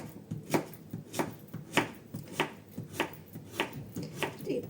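A knife chops zucchini into halves and quarters on a cutting board, about eight evenly spaced thuds in a steady rhythm, close and clear with no speech.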